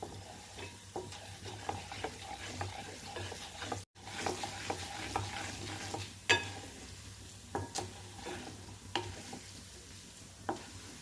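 Urad dal and fresh coconut pieces fry and sizzle in a pan, with a steady crackle broken by repeated clinks and scrapes of a spoon stirring, close and moderately loud with no talking.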